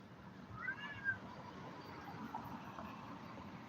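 A cat gives a couple of faint, brief meows near the start, heard quietly over a low background hum with no talking.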